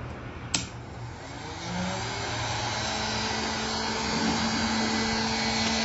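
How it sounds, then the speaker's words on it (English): A 1400-watt heat gun switches on at its highest setting with a short click, then settles into a steady, loud blowing whir with a faint hum, running alone for several seconds. "I'm going to go ahead and turn on the heat gun to its highest setting"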